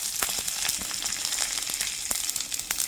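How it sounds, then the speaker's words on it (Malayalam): Mustard seeds splutter and pop in hot oil in a small pan, a close, steady crackle of sharp, rapid pops over a constant sizzle, with no voices. "കടുക് പൊട്ടിക്കാം"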